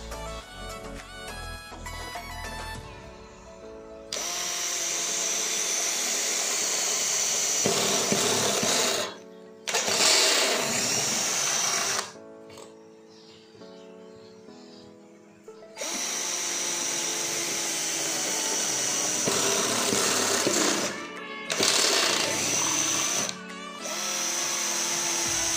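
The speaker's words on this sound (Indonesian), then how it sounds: "Menggunakan mata bor step drill di percepatan nomor 2 untuk mengebor besi holo dengan ketebalan 1 mm tidak ada masalah." A DCK KDJZ1602 cordless drill at its second speed setting runs a step bit through 1 mm hollow iron tubing in several long, loud, whining bursts of steady motor noise with grinding metal, separated by short pauses, close by and with no talking.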